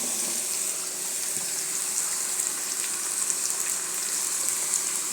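Bitter gourd slices tipped into hot oil with reddened onion in a pan, a steady broadband hiss of frying that holds evenly throughout with no talking.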